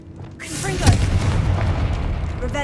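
Confringo explosive spell cast in Hogwarts Legacy, a booming blast that bursts up sharply after a shouted incantation, then settles into a rumbling roar over game ambience.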